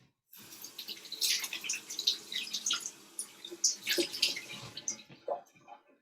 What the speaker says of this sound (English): I want to just wash my hands too